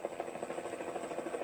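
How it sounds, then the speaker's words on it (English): A cartoon helicopter hovers close by with a steady, pulsing rotor chop and engine drone, a rapid rhythmic thudding that carries on for the whole moment with no speech over it. "This was no time for a chat with a helicopter."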